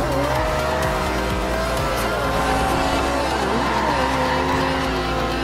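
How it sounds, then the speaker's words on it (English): Supercars in Forza Horizon 2, including a McLaren P1, LaFerrari, Corvette and Viper, roar at full throttle, with loud overlapping engine notes and sustained tire squeal throughout. "That's the P1, the LaFerrari. Corvette and a Viper."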